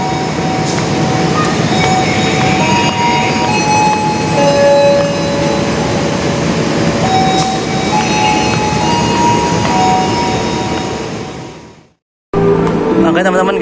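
Kedung Sepur local passenger train running between Semarang Poncol and Ngrombo, a loud steady rumble with whining tones and wheel noise that fades out near the end before an abrupt cut to another sound.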